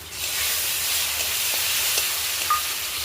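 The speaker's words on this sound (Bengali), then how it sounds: "এবার আমি দেবো রসুন আদা লঙ্কা পেস্ট" Garlic, ginger and chili paste sizzling in a hot cooking pan, a steady loud hiss that starts abruptly and holds throughout, close and alone.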